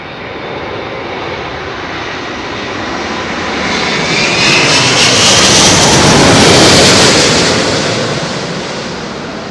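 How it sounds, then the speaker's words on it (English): A loud, close engine roar swells and then fades as a large airliner passes overhead on landing approach to London Heathrow runway 27L, steady and rumbling with no voices. "Listen to the engines, up, down, up, down."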